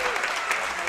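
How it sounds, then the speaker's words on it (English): A crowd applauds two players at a National Squash League legends exhibition match, a steady dense wash of clapping that runs the whole moment, with a commentator's voice likely over it. "Big round of applause for Drexel and John"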